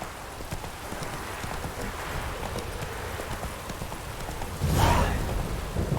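Geralt's horse Roach gallops in The Witcher, with steady rapid hoofbeats under a constant wash of rain-like ambience and a louder snort or whinny near the end.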